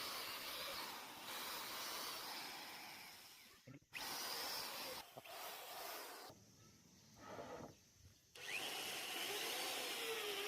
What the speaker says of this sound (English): carefully drilling holes into the long wooden planks, preparing them to be joined together securely